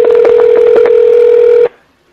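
A telephone ringtone sounds as a steady, loud electronic tone with crackly pulses running through it for about 1.7 seconds, then cuts off abruptly into near silence.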